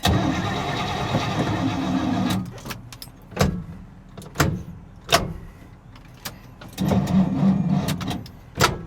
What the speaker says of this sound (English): Gotta start it in gear.